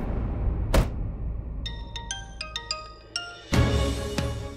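A phone ringtone plays a series of short, bright melodic beeps in a Hindi TV drama scene, placed between louder whooshing thuds at the start and the end.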